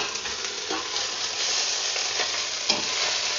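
Chicken pieces sizzle steadily in a hot pan with ginger for Filipino tinola, with a spoon scraping and stirring now and then, a continuous close frying hiss with no voices.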